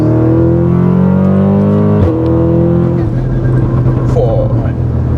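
An Audi S3 Stage 3 tuned to 525 horsepower accelerates hard in third gear with three aboard. The engine climbs loud and close, then a gear change at about two seconds, with voices in the car under the roar.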